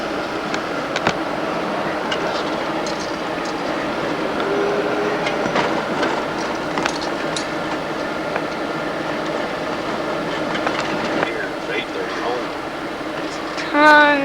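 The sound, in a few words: train passing in Chicago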